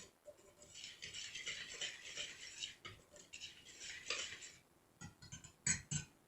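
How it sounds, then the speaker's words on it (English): A whisk clinks and scrapes briskly against a bowl while mixing dry baking ingredients, a quiet rapid rattling with short pauses and a few sharper taps toward the end. "I'm going to go ahead and use a whisk here to just easily mix that up"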